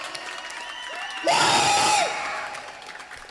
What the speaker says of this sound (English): can everyone give it a big round of applause